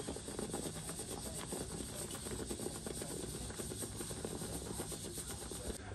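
Water boiling in a pan on the stove while chips cook, heard as a steady, soft, even hiss that carries on without a break.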